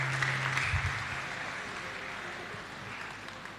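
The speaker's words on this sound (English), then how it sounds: "Let's all clap for him." A crowd at a university computing ICT expo claps for a volunteer, with soft, moderately distant applause that slowly thins out over a faint hum.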